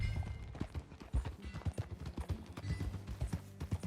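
Horse hooves clip-clop at a brisk, irregular pace as riders set off on horseback in Red Dead Redemption 2, close, quiet and uneven, with light tack rattles and no speech.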